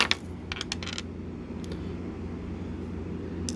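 Dice from the Elder Sign board game rolled onto a table: a brief rattling clatter at the start, then only a low steady background hum.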